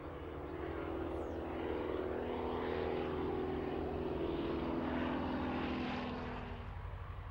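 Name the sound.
Bücker Jungmann aerobatic plane flying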